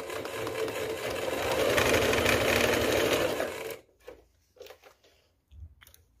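Sewing machine stitching two patchwork quilt pieces together with a quarter-inch seam, a loud steady close whir for about four seconds, then stopping, followed by a few faint handling clicks and rustles.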